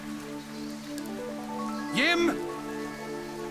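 Steady downpour of rain in the video game Fantasian Neo Dimension, a soft continuous hiss under sustained musical tones, with a brief voice call rising out of it midway.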